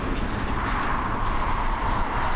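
An ATR 72-600 turboprop airliner roars steadily and close during its takeoff run at Dublin Airport, a broad continuous engine and propeller drone with no talking.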